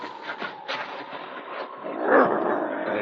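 A dog sounds off with low, rough growls and whimpers rising to a louder snarl near the end, close and continuous with no talking.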